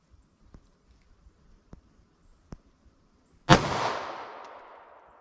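A single sharp 9mm shot from a Sig Sauer Elite Defense compact handgun, fired outdoors about five yards from a target, loud and close with a lingering decay, after a few faint scattered clicks and taps.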